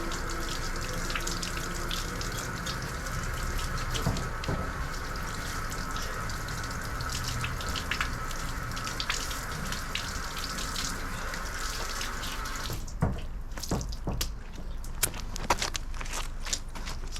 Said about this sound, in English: just rinse it off so you can get all the bad dirt out of it